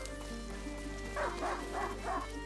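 A hunting dog in the video game A Plague Tale: Innocence gives four evenly spaced barks at moderate distance over a constant low background hum and music bed.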